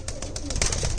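An old-breed male guldaar pigeon gives a brief low coo, close and moderately loud, within a one-second burst without speech.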